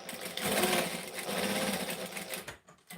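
A sewing machine runs fast while stitching a Denver Mini quilt by Swoon, a loud, continuous mechanical rattle that cuts out in short stops near the end.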